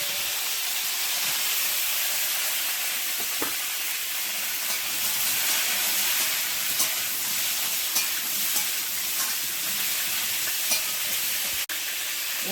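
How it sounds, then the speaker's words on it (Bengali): Potato and eggplant fry in hot oil seasoned with panch phoron, a loud, continuous hiss and sizzle close up. A few faint clinks sound along the way and one sharp knock comes near the end. There is no talking. "তেলের মধ্যে একেবারে একটু 5 ফোড়ন দিয়ে দেবো, দিয়ে আলু বেগুনটা দিয়ে দেবো।"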